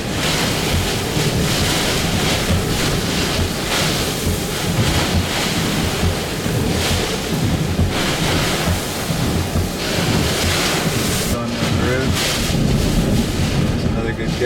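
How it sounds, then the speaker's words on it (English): Powerful hurricane wind in the eyewall of Hurricane Laura roars continuously and loudly, buffeting the microphone with heavy rushing gusts, while occasional voices sound faintly beneath the din. "I think the wind's gonna get stronger here"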